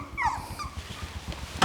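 A Portuguese Water Dog puppy gives a few high, thin whimpers close by, followed by soft snuffling and light movement noises, ending with a brief louder rustle.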